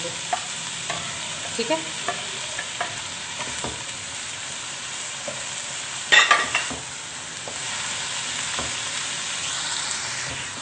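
Golden brown chicken is stirred and mixed in a sizzling pan, with repeated spoon scrapes and clinks over steady frying and one louder clatter midway; a voice speaks briefly.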